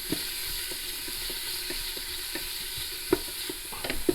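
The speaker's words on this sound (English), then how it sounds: "So we're just going to toss that onion around in that oil, get it good mixed" Chopped onion sizzles and gets stirred in hot oil in a pan, a steady frying hiss broken by scattered scraping clicks of the utensil, with a few sharper knocks near the end; no one talks.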